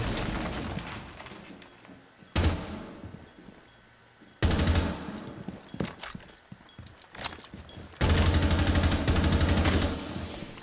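Rapid gunfire from the Rainbow Six Siege video game comes in three loud bursts of automatic shots, with quieter game noise between them.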